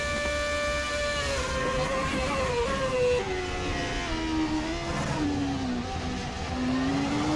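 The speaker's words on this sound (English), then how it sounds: "these F1 cars, they sound brilliant" A high-revving 2007 Formula 1 car engine in the Assetto Corsa video game, racing at Spa, whines continuously, its pitch dropping in steps through gear changes, loud and sustained with no voices.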